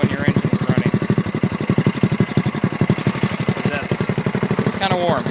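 A small kart engine idles steadily nearby with a fast, even putter of firing pulses, running continuously throughout at moderate loudness.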